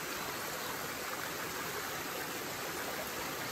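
Waterfall and clear stream water flowing in a natural pool, a steady broadband rushing hiss, even and unbroken, heard at a moderate distance with no voices.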